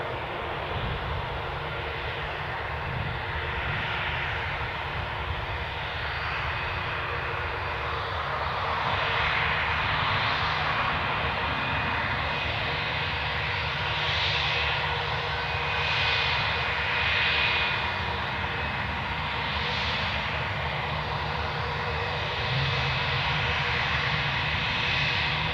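Loganair Embraer 145 regional jets moving away in the background at Newcastle Airport produce a sustained distant engine drone and whine, fairly even in level with slight swells, and no one speaking.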